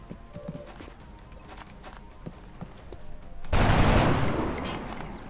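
Gunfire in XCOM: Enemy Within starts with scattered sharp cracks and taps, then a heavy, loud burst of shots hits suddenly and rumbles on for a second or two before easing off.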